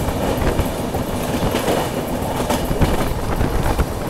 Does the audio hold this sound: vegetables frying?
no